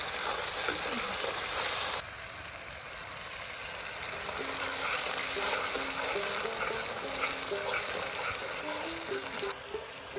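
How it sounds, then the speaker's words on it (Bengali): Chili powder, coriander powder and salt fry in oil as a spice paste, a steady close sizzle with intermittent stirring scrapes throughout. "আর মশলাটা কষে নেব"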